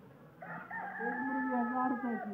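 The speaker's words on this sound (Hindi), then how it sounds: "ये इस साइड पे सारी मुर्गियां हैं और इस साइड पे सारे मुर्गे हैं।" A rooster crows once in a long, drawn-out call at a poultry farm, fairly clear and close, with faint background noise.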